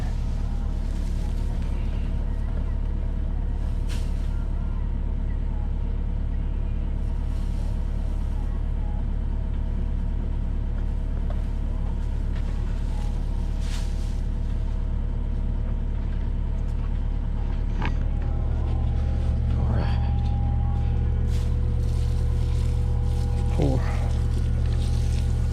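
A 309 machine works on taking down huge trees, its engine droning low and steady throughout, with the pitch shifting partway through as the load changes.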